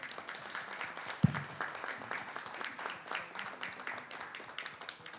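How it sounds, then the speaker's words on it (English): Audience at a preschool launch event in Chennai applauding, a crowd of individual claps with audible separate hand strikes, moderately loud, and one sharp thump near the start. "Can I have round of applause?"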